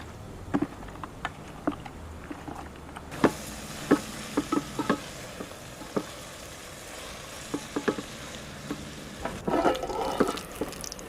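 Sliced onions sauté in a pan for Kerala chicken biriyani along with ginger-garlic paste, giving a soft, steady sizzle. Sharp scrapes and clicks from a stirring spoon repeat throughout, and the bursts grow busier near the end.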